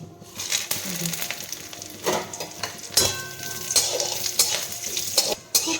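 Whole spices and bay leaves fry in ghee with a steady close sizzle, broken by sharp metallic clinks and scrapes of stirring in the pan.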